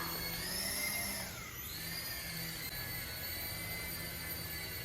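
A tiny SY012 toy helicopter hovers and comes down for an automatic landing, its rotor motor giving a steady, faint, high-pitched whine that dips briefly early on.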